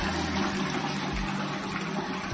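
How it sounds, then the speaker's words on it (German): A toilet flushing, a steady loud rush of gushing water filling the whole moment without any voices. "Und spült es die Toilette mal runter."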